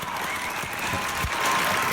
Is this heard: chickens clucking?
no